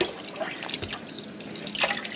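Homemade butter is dunked and worked in a bowl of cold water, giving close, quiet sloshing, dripping and small splashes in irregular bursts with no talk.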